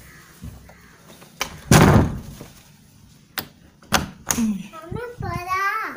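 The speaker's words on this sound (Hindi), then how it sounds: "एक मिनट, पहले मैं दरवाज़े बंद कर लेती हूँ।" Household doors being shut one after another indoors, giving several sharp, loud thuds and slams spread across a few seconds, with a voice and other talk in between.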